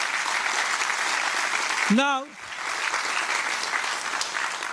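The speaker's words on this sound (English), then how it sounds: "Give a round of applause." Audience applause at a Bharatanatyam arangetram fills the room as a broad, steady wash of many hands, briefly interrupted by a voice before the clapping carries on at moderate level.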